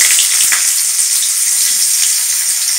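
Chopped onion hits hot oil with a loud, bright, steady sizzle that fills the pan, close up, with faint crackles running through it.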